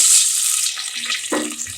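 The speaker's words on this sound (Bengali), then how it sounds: "এখন একটু পানি দিয়ে দিব" Water poured into a hot pan of fried onions while cooking a country chicken curry with mango, giving a loud rushing hiss that eases into a steadier, softer bubbling sizzle.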